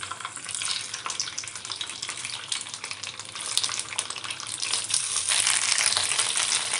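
Poha and semolina bites drop into a hot spiced oil tempering and fry with a continuous crackling sizzle, growing a little louder toward the end, with no talking.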